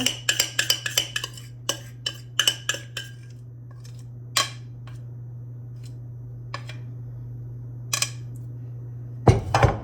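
Homemade yeast-free bread dough being spread into a loaf pan: a utensil clinks and taps against the pan in irregular bursts, then pauses and resumes, over a steady low hum.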